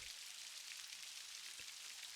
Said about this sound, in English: As the rainforest rain continues to nourish the earth, feel a sense of renewal within yourself.